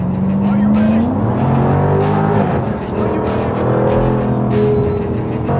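A Jaguar F-Type R convertible with a supercharged 5.0-litre V8 accelerates hard. The engine note rises loud and close, drops briefly between gears, then climbs again in a sustained roar through the run.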